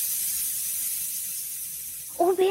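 Steady loud hiss of steam escaping, like a pressure cooker, holding evenly for about two seconds before a brief rising tonal squeal cuts in near the end.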